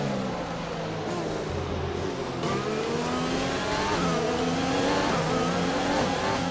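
A Jordan Formula 1 car's engine in F1 2020 screams steadily during an overtake, its pitch climbing through revs and dipping at gear changes, loud and continuous the whole way.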